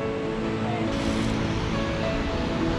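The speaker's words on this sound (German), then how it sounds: "So, da ist der Wasserfall." Continuous loud rushing water roar, broadband and steady throughout, from the nearby Stuibenfall, Tyrol's highest waterfall, in the Ötztal valley, Austria.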